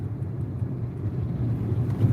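Inside a moving car, a steady low road and engine rumble drones evenly throughout, with no talking.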